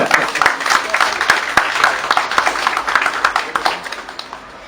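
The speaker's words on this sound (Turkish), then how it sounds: "Alkışlarımız eşliğinde." A crowd applauds a plaque presentation at an award ceremony held at Safiye Sultan's venue, giving steady, dense clapping at close range that fades slightly toward the end.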